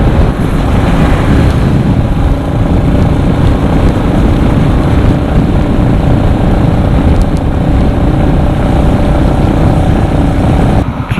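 Royal Enfield Classic 350 motorcycle riding, a heavy single-cylinder bike with low-end torque, its engine drone and wind rumble loud and continuous throughout with no talking.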